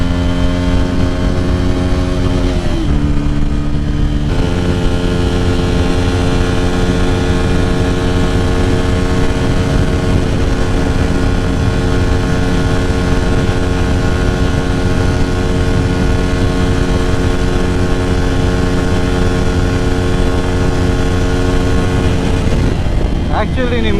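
A Bajaj Pulsar N160 motorcycle engine revs hard at high RPM toward its 9000 RPM redline, a loud, sustained, close whine with a brief dip as it shifts before climbing again.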